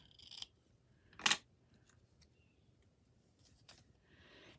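Scissors snip through journal paper, a couple of short crisp cuts close to the mic with quiet rustling and handling noise between them.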